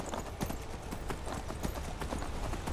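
Rapid hoofbeats pound in a steady galloping rhythm as a horse runs across water in Skyrim, continuous and fairly loud, with a low rumbling background and faint talk.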